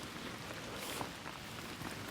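Rain falls in woodland as a steady, soft hiss of drops spread evenly across the span, fairly faint with an occasional closer patter.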